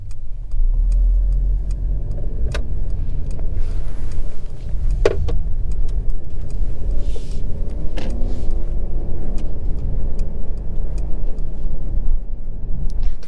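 A 2023 Mercedes GLC300 4matic drives through town, its engine and road rumble a steady, smooth low drone from inside the cabin, with a few faint clicks and taps over the continuous hum.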